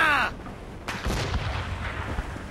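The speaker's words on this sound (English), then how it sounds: "They're firing!" Naval cannon fire in a sea battle: a heavy, booming blast with a long rumbling tail, following a brief shouted voice at the start.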